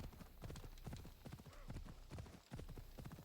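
Horse hooves clip-clop in a fast, steady galloping rhythm as a mount runs in Assassin's Creed Odyssey, a video game, the beats loud and close throughout with a brief whinny-like tone midway.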